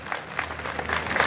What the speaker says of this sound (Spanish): El aplauso para nuestra alcaldesa Leonor Noyola